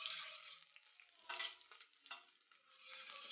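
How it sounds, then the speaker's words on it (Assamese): Chopped onions with green chillies fry in a pan and give a soft, steady sizzle, with intermittent scraping strokes of a stirring spoon and no talking. "এতিয়া মই এই পিঁয়াজখিনি"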